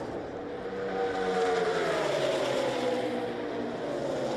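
A Richard Petty Ford stock car accelerates away from pit road at the 2013 Daytona 500, its engine note rising and sweeping past loudly, with a faint crowd wash beneath and no speech.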